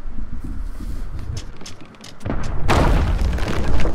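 Gunfire in the Sea of Thieves video game: a scattering of booms and thuds plays through the game audio, building into a louder, denser burst of blasts in the second half.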